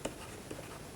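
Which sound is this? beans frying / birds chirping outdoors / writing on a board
writing on a board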